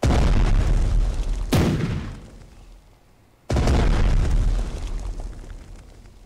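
Heavy artillery explosions in the World War II strategy game Strategic Mind: Blitzkrieg, a loud deep boom rumbling away, a short lull, then a second powerful blast that decays slowly.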